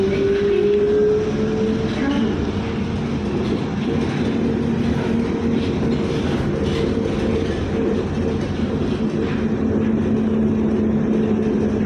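Ride aboard an LRT light rail train with a steady low rumble and rolling wheel noise, a sustained tonal hum running through, loud and continuous with faint voices in the background.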